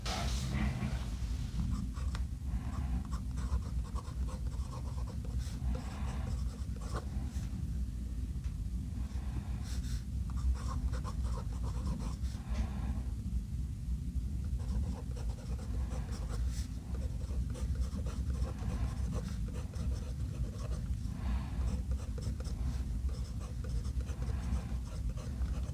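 A Junlai 930 ivory white and gold fountain pen scratches across paper in a long writing sample, with faint, continuous nib strokes and small pauses between them over a steady low background hiss.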